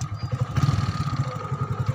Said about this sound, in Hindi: फाइनली गाइस बाइक तो स्टार्ट हो गया